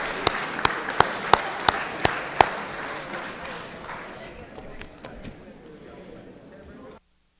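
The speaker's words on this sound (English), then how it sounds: "Give him a round of applause." A legislative chamber crowd applauds a former member visiting as a guest: a few sharp, evenly spaced knocks ring out at the start, then the clapping fades gradually to silence.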